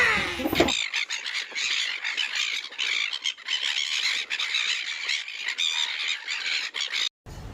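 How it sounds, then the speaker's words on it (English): An angry seagull squawks loudly and close by in a long, harsh run of repeated shrieking calls, with brief gaps and a short pause near the end. "that's one angry bird"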